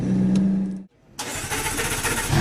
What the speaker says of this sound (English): And she roars into life.